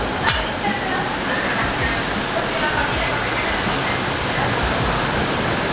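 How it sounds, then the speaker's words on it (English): Heavy rain pouring during a tropical storm, a dense continuous hiss with a brief sharp knock at the start, steady throughout, no clear voices. "and now it is pouring rain and it looks like we might get hit by the tropical storm"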